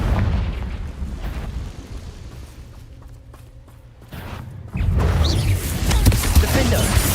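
Explosive Confringo spell blasts in the video game Hogwarts Legacy, loud bursts with rumbling booms at the start, a quieter lull, then a powerful fresh explosion and sustained crackling roar near the end, with faint talk.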